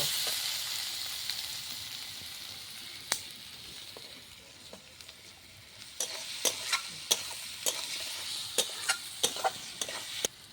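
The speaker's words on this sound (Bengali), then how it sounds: "পরিমাণ মতো নুন দিয়ে ভালো করে নাড়াচাড়া করে ভেজে নিব" Egg paneer frying with turmeric and salt is stirred in a pan, with a soft sizzle throughout and sharp spatula clicks and scrapes coming faster toward the end, close up and without speech.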